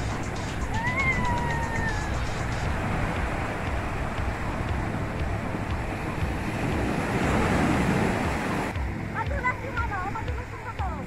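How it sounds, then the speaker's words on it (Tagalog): Strong ocean waves surge and crash at Trio Beach, a steady loud wash of surf with wind buffeting the microphone, while people's voices are heard over the water. "Wow, lakas ng mga alon!"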